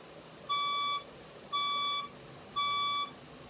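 Fire alarm sounding in a building during an evacuation, three identical loud electronic beeps of about half a second each, evenly spaced over steady background hiss with no talking.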